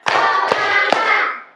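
A classroom of students claps in a counted routine, giving three distinct sharp claps spaced evenly, each followed by a brief ringing tail in a reverberant room.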